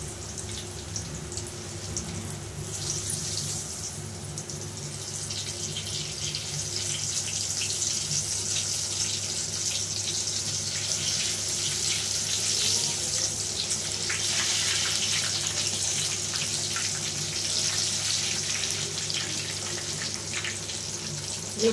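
Mirchi bajji, battered chillies, deep frying in hot oil until golden brown, with a steady, dense hiss and crackle of bubbling oil that runs unbroken for the whole stretch with no voices.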